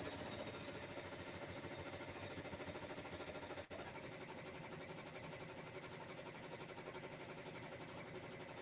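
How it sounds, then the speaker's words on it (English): An embroidery machine running at a reduced speed, stitching with a steady, even mechanical whir and rapid rhythmic ticking, fairly quiet, with one brief click partway through and no talking. "what I'm going to do is I'm going to slow down the machine just a little bit"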